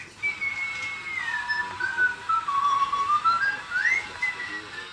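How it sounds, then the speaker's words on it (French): Meccano robot whistling a sliding, wavering tune that dips and rises over about five seconds, fairly close and clear, with no talk over it. "il va nous suivre, il va siffloter"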